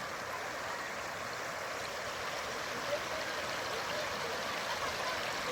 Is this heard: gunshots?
no